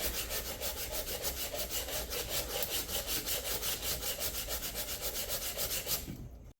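Hand sanding of a small wooden child's bench around a dowel with 80 grit sandpaper: steady, close back-and-forth rasping strokes in an even rhythm, loud and alone, stopping abruptly at the end.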